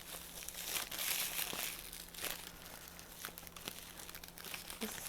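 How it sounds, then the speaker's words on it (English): Crinkly plastic wrapping rustles and crackles up close in irregular bursts as a package is opened, quiet overall. "Oh, sorry, very crinkly."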